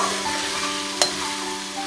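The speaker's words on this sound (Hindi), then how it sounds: "इन तमाम चीज़ों को अच्छी तरह मैं अब भून लूँगी।" Green chillies and spices frying in a pan for tinda salan, giving a steady close sizzle with a hum underneath and one sharp scrape near the middle, no voices.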